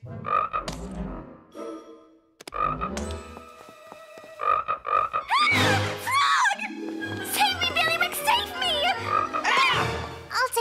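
Bullfrog croaking in a children's animated fantasy cartoon, with repeated croaks mixed among sound effects, music and children's voices.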